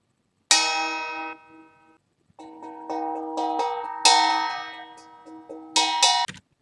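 A vase struck repeatedly gives ringing, bell-like metallic tones: one long decaying strike, a pause, then a series of quicker hits with sustained resonance, close and clear with no talk.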